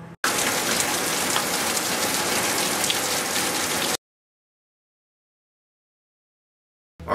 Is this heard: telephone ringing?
no